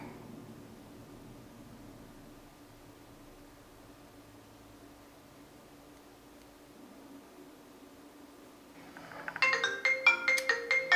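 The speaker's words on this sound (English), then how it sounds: "And then my phone rings." A mobile phone ringtone starts up near the end, a bright melodic ring coming in loud after a long stretch of quiet room hiss.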